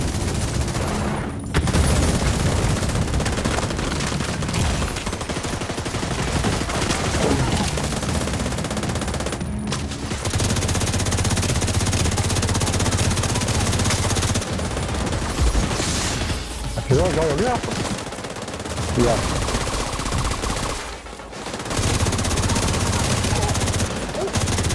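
Gunfire in the video game The Division 2 comes as dense, loud automatic bursts and repeated shots that roll on almost without pause, with occasional brief gaps, alongside game sounds and some speech.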